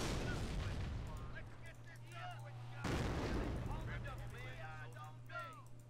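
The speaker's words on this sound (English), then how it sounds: "Yikes, some mortars going around. Hitting us all over." Mortar shells burst in the World War II strategy game Company of Heroes, in Normandy near Cherbourg. Two heavy blasts land about three seconds apart, each followed by a rolling rumble, with battle noise and voices mixed underneath.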